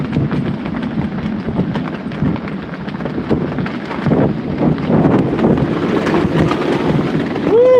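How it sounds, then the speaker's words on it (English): Strong tropical storm wind gusts roar over an open harbor lined with boats, a loud continuous buffeting that swells and builds toward the end, battering the microphone. "Take another gust."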